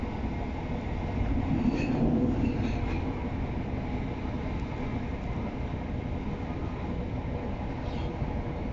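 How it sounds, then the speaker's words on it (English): An East Midlands Railway Class 170 diesel unit, 170512, runs between Lincoln and Barnetby with a steady interior rumble of engine and wheels on rail. The noise is continuous and broadband, with faint squeals and rattles and no speech. "And this train is the service for Cleethorpes."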